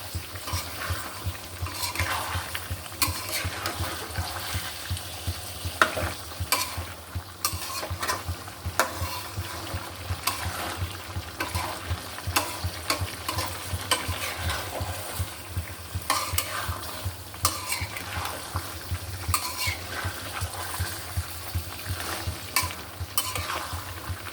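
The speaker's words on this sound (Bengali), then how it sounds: "মাংসটা যত কষাবো" Beef being stir-fried in a pan, a steady sizzle broken by repeated scrapes and clinks from stirring, close and continuous for the whole stretch with no talking.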